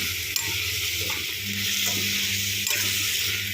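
Carrots frying and sizzling in a pan for a drumstick, tomato and carrot curry, a steady close hiss with occasional stirring scrapes and no talk.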